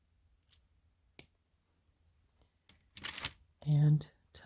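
Wire cutters snip jewelry wire while an earring and necklace set is being made, a few quiet clicks and a short sharp cut close by, followed by faint handling noise.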